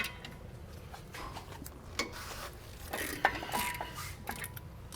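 A ratchet wrench clicks as 18mm brake caliper carrier bolts are broken loose on a 2003–2014 Volvo XC90, giving close, uneven mechanical ticks and creaks with a few sharper strains.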